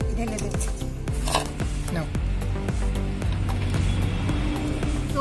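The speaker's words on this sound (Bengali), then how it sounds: "এবার সবকিছু একসঙ্গে এই বাটিতে ঢেলে দিচ্ছি।" Chopped tomato, carrot, mint, coriander, onion and cucumber are tipped into a bowl for vegetable raita, giving close, rapid knocks and clatters against the bowl under a soft backing tune.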